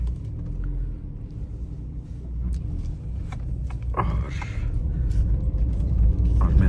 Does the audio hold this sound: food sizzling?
no